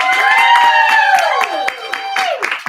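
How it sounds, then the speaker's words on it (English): An audience claps at a Giving Tuesday youth center telethon, sharp hand claps rising under loud, ringing voices or cheers. "Let's give him a round of applause."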